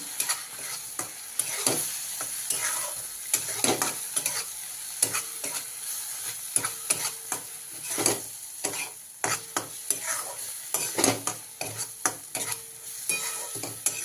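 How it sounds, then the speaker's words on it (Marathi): Loud sizzling of spice masala with tomato and onion frying in a hot pan, with frequent scraping strokes of a spatula stirring the mixture, steady and continuous throughout. "सर्व मसाला आपण चांगला भाजून घेऊया"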